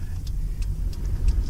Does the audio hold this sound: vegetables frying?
no